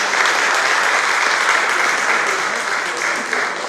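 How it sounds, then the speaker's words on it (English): A large crowd applauds steadily at a community cultural festival, dense continuous clapping at full strength throughout with no pause, thanking the event committee. "so a big round of applause"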